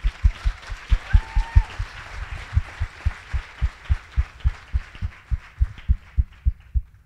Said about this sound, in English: could I have a round of applause for our Polish host?